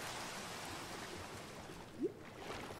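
Steady rushing waterfall noise in Minecraft, a continuous wash of splashing water that stays even throughout, with one brief higher blip near the end.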